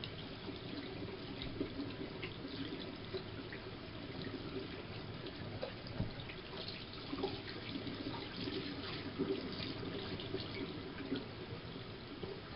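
Running water rinses hair after a hair-straightening treatment, a steady, even wash of splashing flow from start to finish, quiet and close, with no talking.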